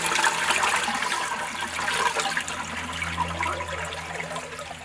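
Water rushes back through a fully opened gate valve into the inner chamber of a Nexus pond filter, a steady, moderately loud gushing and splashing flow that continues throughout with no talking.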